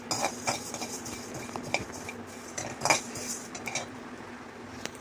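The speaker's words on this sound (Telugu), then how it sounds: "ఇవన్నీ లైట్గా ఫ్రై చేసుకోవాలి" Coriander seeds and whole spices dry-roast in a pan over medium flame, with a spoon scraping and clinking against the metal in irregular bursts, fairly quiet and close.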